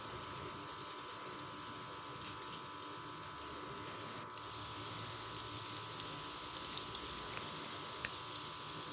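Vada frying in half-hot oil in a pan, a soft continuous bubbling sizzle with faint pops, quiet and steady throughout.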